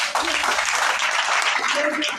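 An audience at a religious conference bursts into dense, steady applause that fills the whole short moment, loud and close, with voices mixed into the clapping.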